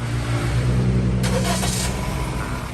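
A Honda City engine turns over and settles into a steady, close idle, with a brighter burst of mechanical noise partway through.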